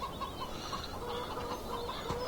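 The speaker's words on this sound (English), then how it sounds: "Noisy chickens." Chickens in a farming video game (Farming Simulator 17) cluck softly and steadily in the background, a low continuous flock chatter with no other sounds.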